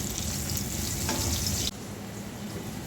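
Teasel gourd (kakrol) frying in a pan sends up a steady, dense sizzle with faint stirring scrapes, close and continuous, then briefly softens and carries on at a slightly lower level.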